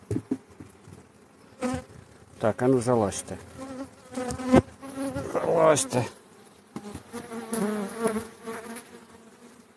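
Honeybees buzz around a hive on a calm evening with rapeseed in bloom, their drone rising and falling beneath someone speaking briefly nearby, with occasional light knocks.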